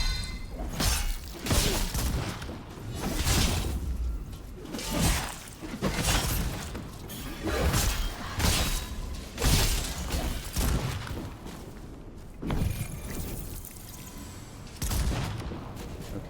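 Cannon fire in Enotria: The Last Song booms repeatedly in heavy, evenly spaced blasts, each followed by a ringing tail, loud and up close.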